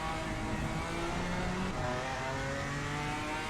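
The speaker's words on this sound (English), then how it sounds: "The exhaust on the BMW GT4 sounds very angry" A BMW GT4 race car in a sim racing game snarls steadily with a harsh, angry exhaust note, revving and shifting through a continuous layered engine drone with no talk.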